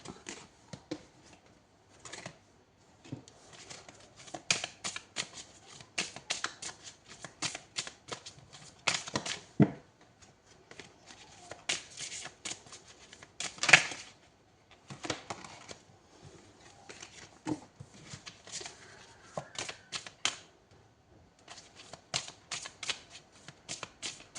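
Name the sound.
shuffling tarot cards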